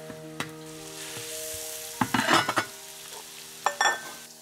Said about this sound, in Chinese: 这个蒜头我就放一半下来爆一爆香